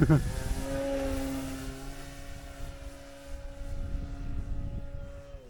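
A small propeller engine of a radio-controlled E-flite Super Timber model airplane in flight drones at a steady pitch, whining slightly higher then settling, with wind buffeting in the background.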